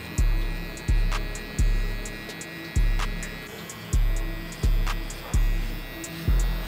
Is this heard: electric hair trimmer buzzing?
yes